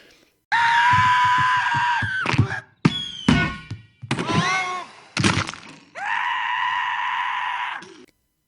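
Long, loud, sustained screams ring out, broken by bangs and crashing noises in the middle before another drawn-out scream.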